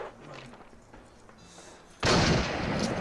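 Call of Duty gunfire erupts as a loud, sustained burst of shots two seconds in and keeps going, after a quieter opening with faint voices.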